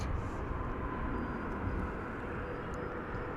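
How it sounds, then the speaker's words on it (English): A Boeing 787 Dreamliner departs DFW airport, its jet engines giving off a steady, low, distant roar that holds at an even level throughout. "it looks like the Dreamliner's going out first"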